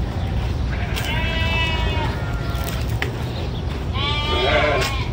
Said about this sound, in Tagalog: Yan, daming kambing, kaya pala marami nagmemehe.